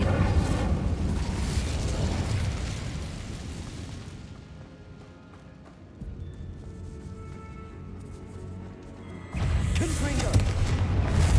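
The Incendio fire spell from Hogwarts Legacy flares up in a loud, roaring whoosh of flame, fading into a quieter rumbling stretch before another heavy burst of fire surges back near the end.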